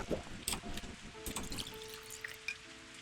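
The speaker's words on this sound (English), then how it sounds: "Actually, I'll drink my water bottle first." Water sloshing and trickling as a bottle is drunk from in a Rainbow Six Siege match, a short run of liquid pouring and dribbling sounds at moderate level with faint in-game tones.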